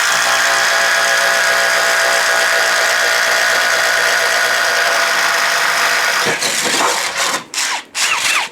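Ryobi HP impact driver driving an Irwin Speed Bore bit as its final test, a loud continuous motor whine and rapid hammering for about six seconds, then breaking into several short stuttering bursts that cut out before the end.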